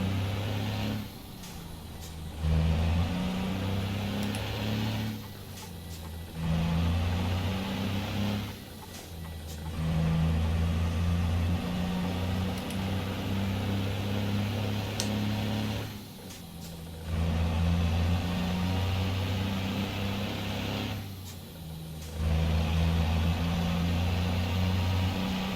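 Ford CLT 9000 truck with a 13-speed gearbox in American Truck Simulator, its engine droning low and steady, rising and falling through repeated gear shifts with brief dips between pulls, heard alone.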